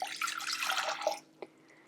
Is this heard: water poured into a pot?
yes